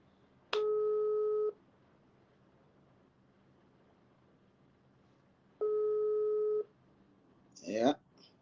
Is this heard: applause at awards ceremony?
no